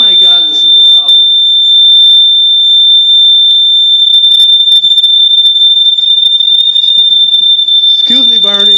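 A household smoke alarm sounding during its weekly test, a loud piercing continuous electronic tone held steady for several seconds, with voices talking briefly at the start and end.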